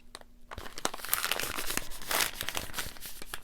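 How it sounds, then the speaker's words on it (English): Two paper bags are folded in half, giving close, crisp crinkling and rustling with a few sharp creases after a brief quiet start. "you're going to take your 2 bags and you're going to fold them exactly in half"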